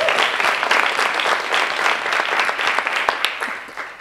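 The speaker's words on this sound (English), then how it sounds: "Okay, we'll clap for that." An audience claps at a visioning day event, a close and dense burst of applause that holds steady and thins slightly toward the end.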